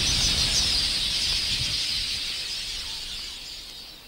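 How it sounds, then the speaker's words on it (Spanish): Weaver birds in a large flock forage over dry ground under acacias, giving a dense, continuous high twittering and chirping that stays steady and close before slowly fading. "Una multitud de laborantes pájaros tejedores peina el suelo en busca de las últimas semillas."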